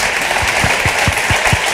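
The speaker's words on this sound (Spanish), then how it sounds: "un aplauso para ella, por favor." An audience applauds at a book presentation, a dense, steady burst of clapping that fills the short moment without any talk.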